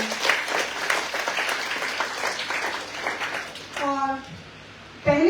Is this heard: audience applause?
yes